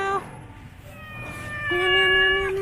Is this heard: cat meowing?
yes